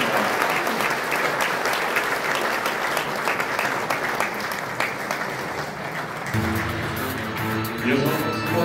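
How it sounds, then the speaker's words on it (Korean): Warm, sustained applause fills the hall at the 4th Kim Woo-jung Medical Award ceremony, loud and even for several seconds, with a soft tonal music passage entering near the end. "뜨거운 박수로 인사해 주시기 바랍니다."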